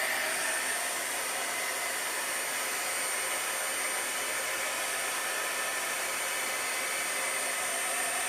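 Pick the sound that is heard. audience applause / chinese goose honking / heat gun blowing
heat gun blowing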